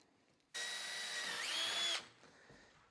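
Power drill driving a screw through a wooden L-shaped outside trim piece into a wall, one continuous close, loud whir of about a second and a half, its pitch climbing near the end before stopping abruptly.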